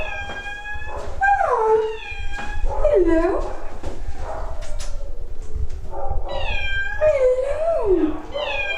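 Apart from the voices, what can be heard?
cat meowing, 8-year-old cat called Tiger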